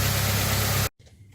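A 1997 Jeep Wrangler engine idles while warming up, a steady loud low rumble with a broad hiss that runs evenly for most of a second before cutting off abruptly to quiet background noise.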